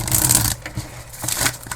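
A deck of reading cards is shuffled up close in two quick bursts of riffling and sliding paper, separated by a short pause.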